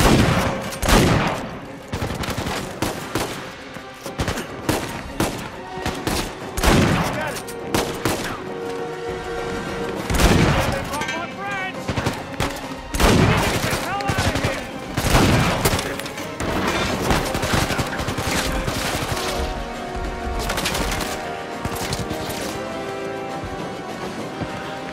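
Heavy gunfire fills a firefight in the video game Uncharted 4, dense bursts of shots and impacts tumbling over one another with booms and crashes, loud and continuous throughout.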